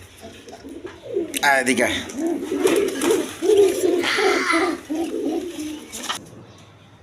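Lotan pigeons coo in soft, repeated throaty bursts close by, overlapping one another under someone talking over them.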